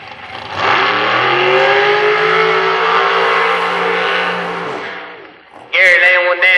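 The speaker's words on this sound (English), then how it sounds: "That's how you do a burnout right there" A dragster does a burnout at the OK Motorsports Winter Nationals drag race, its engine roaring loud and steady for about five seconds before cutting off. A second burst of high-revving engine noise follows at the end.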